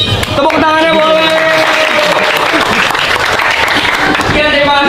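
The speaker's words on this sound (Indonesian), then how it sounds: "Tepuk tangannya boleh." Classroom audience of students clapping together in a school, a steady dense wash of applause running the whole time at close range, with voices and cheering mixed in.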